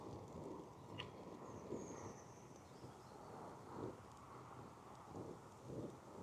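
Steady gusting wind buffets an outdoor microphone at a campsite with a Trangia camping stove, a continuous low roar swelling in soft surges, with faint insect chirps far off.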